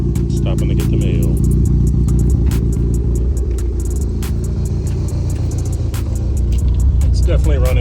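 A car engine fitted with a Link ECU idles rich, a rough, shaking rumble with uneven clattering throughout. A voice talks over it.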